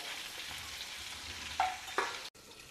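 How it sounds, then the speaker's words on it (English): Stuffed brinjals being gently tossed in a pan fizz quietly in the oil, with a couple of brief clattering knocks near the end and a short drop in sound. "Now toss them around gently"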